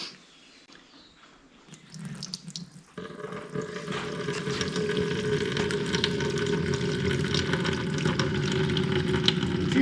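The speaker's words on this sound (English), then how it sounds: "now we're going to drain it out, the Evapo-Rust out of this tank. I'm going to start using this spigot and then catch the debris in this cloth." Evapo-Rust drains from the spigot of a 1959 Mercedes-Benz 220S fuel tank into a cloth, a thin trickle at first that quickly swells into a steady, close splashing pour.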